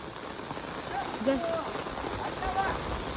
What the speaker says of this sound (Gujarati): જો કેવોક વરસાદ પડ્યો